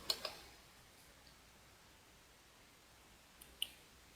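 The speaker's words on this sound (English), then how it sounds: "now I'm just going to click on submit" Sharp, quiet mouse clicks, a couple at the start and another pair near the end, over near silence, as a submit button is pressed during a WordPress install.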